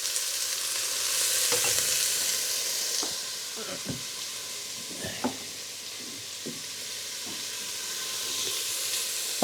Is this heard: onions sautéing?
yes